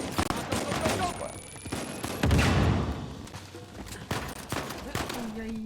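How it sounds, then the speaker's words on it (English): Grenade blast and bursts of gunfire in the video game Uncharted 4, with sharp repeated shots, a heavy boom near the middle and ongoing firefight noise, mixed with people talking. "Grenade at you."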